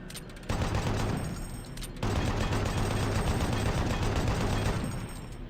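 Rapid, sustained gunfire from DOOM 3 as a grate is shot, a dense unbroken burst that pauses briefly and then resumes for several seconds, loud and close.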